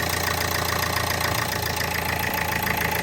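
A Nissan Qashqai engine runs at a steady idle just after starting, a constant close rumble with an even mechanical texture and no speech.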